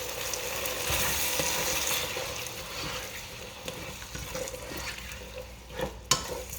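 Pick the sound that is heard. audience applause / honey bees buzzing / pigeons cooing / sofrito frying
sofrito frying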